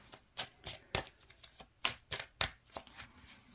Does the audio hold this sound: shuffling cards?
yes